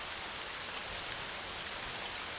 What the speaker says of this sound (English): the rain will actually stop if you go underwater, because it can't possibly rain underwater